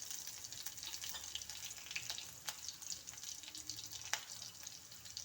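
Onions hit hot oil after the mustard seeds are done popping, giving a steady, fairly quiet sizzle with faint crackles throughout.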